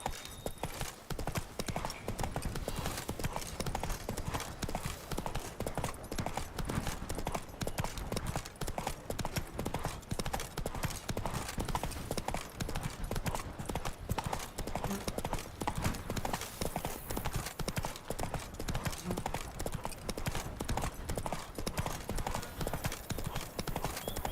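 Roach the horse gallops in The Witcher 3: Wild Hunt, with rapid, continuous clip-clop hoofbeats that stay loud and steady throughout and an occasional faint whinny.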